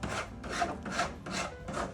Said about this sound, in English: Take the hand file and just get rid of all the metal burrs.